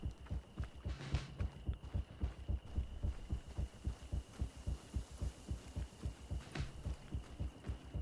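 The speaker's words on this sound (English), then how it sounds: "Yeah, I could really do without all this heartbeat." Steady, throbbing heartbeat effect from the video game Greedfall, a repeating low double thump pulsing evenly throughout, loud and close over a faint background hum, with no talking.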